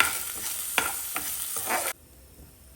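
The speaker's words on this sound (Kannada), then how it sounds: "ಸ್ವಲ್ಪ ಈ ಅಕ್ಕಿಯ ಕಲರ್ ಚೇಂಜ್ ಆಗಬೇಕು, ಅಲ್ಲಿವರೆಗೂ ಹುರ್ಕೋತಾ ಇದ್ದೀನಿ." Rice being dry-roasted and stirred in a pan for rice kheer, a close scraping stir with a faint sizzle and a few sharp spoon strokes, stopping abruptly near the end.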